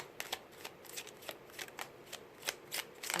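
Secret Garden tarot cards are shuffled by hand in a quiet room, a soft, close series of riffling flutters and slaps repeating in quick, uneven bursts.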